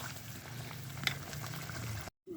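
Tomato curry bubbling softly in a pot, a low continuous simmer with faint pops, close by, cut off briefly near the end.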